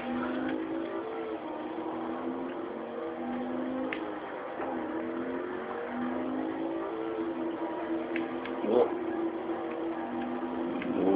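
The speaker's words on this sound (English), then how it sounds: "I'm gonna go drive cruising around as Chuck Norris" A car engine in the video game Saints Row drones and revs steadily while driving, a continuous mid-level whine with small shifts in pitch and faint knocks over it.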